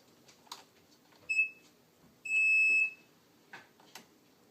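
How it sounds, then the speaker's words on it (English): A simple buzzer in a battery circuit with a light bulb, switched on and off by hand; two short electronic beeps, a brief one then a longer one, alone and fairly clear, with faint clicks around them. "I have a battery, a light bulb, and a buzzer, and a switch, and it goes on and off like this."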